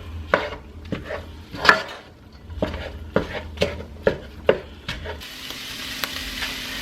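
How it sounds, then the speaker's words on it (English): Ground turkey browning in a pan for cheesy chili mac, stirred with a utensil in a series of sharp scraping strokes over a soft sizzle, loud and close, with the sizzle left alone at the end. "we're just going to cook the turkey until it's nice and cooked all the way through"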